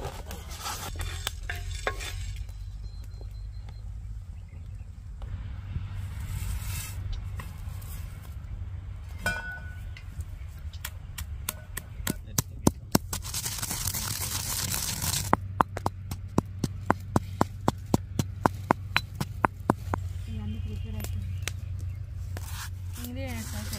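Roasted fenugreek seeds, cumin and black peppercorns are pounded in a mortar with a pestle, first rustling and crunching, then a run of sharp rhythmic thuds growing louder, while a person talks over much of it.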